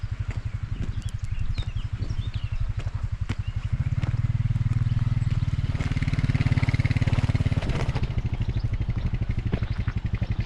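A farmer's quad bike drives over a field, its engine a steady, loud, pulsing drone that swells in the middle before easing back.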